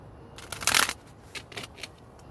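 Fairy oracle cards are shuffled close by, a quick papery riffle swelling to a loud burst, then a few lighter flicks and shuffles trailing off.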